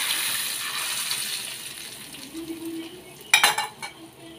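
Black cumin seeds tempering in hot mustard oil, a steady soft sizzle and crackle with a brief burst of louder popping and clatter near the end.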